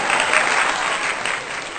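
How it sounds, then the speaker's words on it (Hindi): An audience claps loudly at a poetry recital, a dense, steady round of applause sustained throughout before fading slightly. "जोरदार तालियां"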